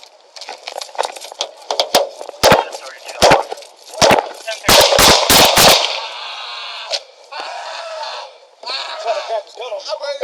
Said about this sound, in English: HQ shots fired.